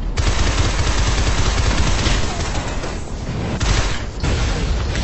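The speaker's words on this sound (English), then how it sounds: "We can go back here shooting." Rapid automatic gunfire and heavy blasts from the Shadow Complex video game roll on almost without pause, loud and close, with no talking over them.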